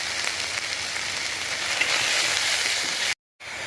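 Spices with salt, turmeric, Kashmiri chilli powder and cumin paste sizzle in hot oil in a pan for puti fish with radish, giving a steady close crackling hiss that runs unbroken before a brief drop-out near the end.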